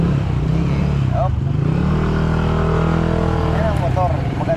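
A motorcycle engine running close by at a market-side motorcycle shop, with a steady low rumble and brief revving swells. Voices and market chatter carry over it.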